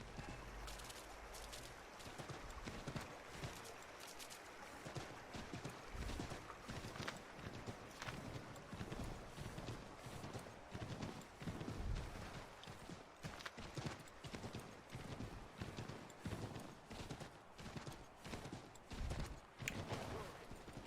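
Horse hooves clip-clop steadily in Assassin's Creed III Remastered, a continuous rhythmic walking beat running throughout at moderate volume, with game ambience behind it.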